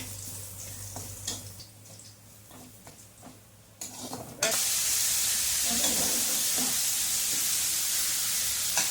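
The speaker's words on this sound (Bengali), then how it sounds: "রসুন আর এটা ভাজা হয়ে গেলে পরে এবার দিয়ে দিচ্ছি আমি শাক।" Leafy greens dropped into a hot pan with fried boiled garlic burst into a loud, steady sizzle that fills the second half, following quieter kitchen clatter and faint sounds.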